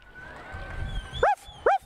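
Two short, sharp yelps from a corgi ring out near the end, close and loud, following a softer stretch of crowd murmur at Canterbury Park racetrack.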